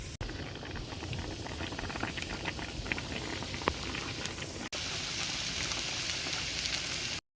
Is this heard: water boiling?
yes